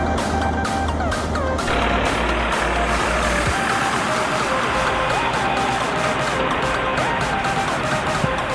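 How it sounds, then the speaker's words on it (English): A Volvo FH16 truck hauling an 8-axle trailer rumbles with a deep, steady engine drone, with a high tone and intermittent beeping sounding over the heavy machinery, close and loud throughout. "With a monstrous Volvo FH16 and an 8-axle trailer, that dream becomes reality."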